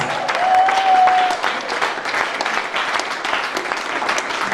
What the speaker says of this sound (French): Clap for the Holy Spirit.